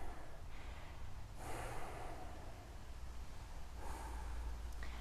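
Slow exhalations during a Dru yoga session, soft breathy rushes of air heard twice, close and quiet against a low background hum.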